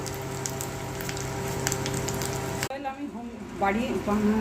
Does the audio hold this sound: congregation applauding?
no